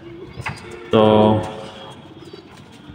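Pigeons in a loft with young chicks, one short loud cooing burst in the middle, faint softer coos around it, with a person talking nearby.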